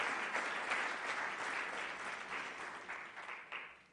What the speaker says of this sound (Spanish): Un aplauso, por favor, para Enrique.